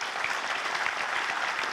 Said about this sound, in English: So big round of applause at the outset